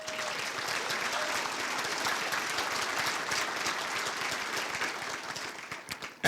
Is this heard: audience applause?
yes